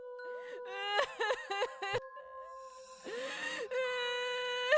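A woman's eerie wailing cry rises and falls in long tonal moans, broken by short sobbing bursts, set against an echoing horror-style soundscape with sustained ringing tones.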